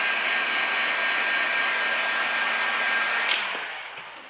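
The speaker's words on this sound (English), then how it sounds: "this material is quite susceptible to a bit of heat, so very gentle with a hot air gun" Hot air gun blowing steadily as it gently heats car decal material on a Talbot Sunbeam Lotus, a close, continuous breathy whoosh that cuts off abruptly near the end.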